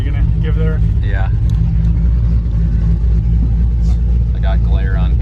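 A 500-horsepower Pontiac GTO rumbles steadily up close while idling and driving, its deep engine drone continuous throughout, with voices talking over it at times.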